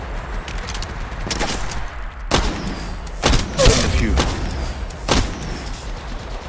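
Gunfire in the video game Apex Legends: several sharp shots and short bursts cracking out at irregular intervals over a low rumbling game background, moderately loud, with no voices over them.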